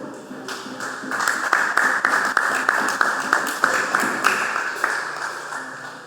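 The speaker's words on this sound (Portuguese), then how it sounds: "Toma o seu assento, aplaudindo o nome do Senhor" A church congregation applauds together, a dense run of sharp claps that swells and continues for several seconds before easing off, with a voice faintly heard over it.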